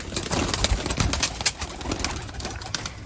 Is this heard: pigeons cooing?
yes